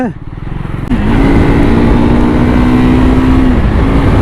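A Triumph Scrambler 400x motorcycle engine rumbles close by as it is ridden, pulling away with a rising then steady drone, loud and continuous with a faint voice over it.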